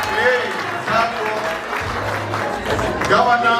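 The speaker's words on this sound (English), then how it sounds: "The member, let us clap for you, please." Members of the Faridi DT Sacco clap at their annual general meeting, a busy, moderately loud patter of hands mixed with crowd murmur and voices talking over it.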